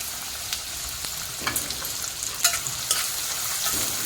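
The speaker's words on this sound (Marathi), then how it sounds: "चांगला परतून घ्यायचा तांबूस रंगावर येईपर्यंत आपल्याला चांगला परतून घ्यायचा आहे" Chopped onion sizzling steadily in hot oil in a pan for a chicken gravy, with occasional stirring scrapes and small pops over a continuous frying hiss; no talking.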